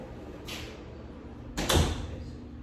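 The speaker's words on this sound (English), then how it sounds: "Open the door." A door is opened indoors in a quiet room: a soft, brief knock-like sound, then a sharper, louder click and thud about a second later, with faint room noise around them.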